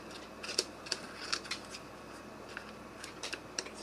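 Scissors snip through paper in short, crisp cuts, about a dozen quiet clicks and rustles in an irregular rhythm, close up in a quiet room.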